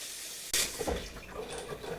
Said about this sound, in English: I'm just going to rinse it with cold water so it stops cooking the pasta